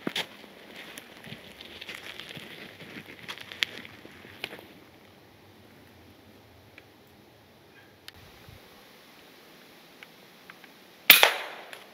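An FX Impact MKII air rifle fires during a rabbit hunt outdoors, giving a few faint, sharp cracks spread across quiet surroundings, with a louder snap near the end.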